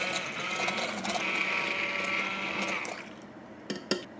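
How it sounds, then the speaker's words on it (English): An immersion blender whirs steadily through homemade BBQ sauce for a few seconds, fairly quiet, then cuts out and is followed by a couple of sharp knocks. "Let's whirl it together with our trusty immersion blender."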